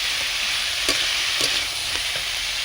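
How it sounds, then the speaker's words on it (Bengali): Bottle gourd and small shrimp are stirred in a hot frying pan, a steady close sizzle broken by a few soft scraping knocks of the spatula. "ভালো করে নাড়িয়ে দেবো।"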